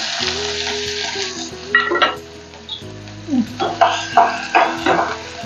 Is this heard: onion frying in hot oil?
yes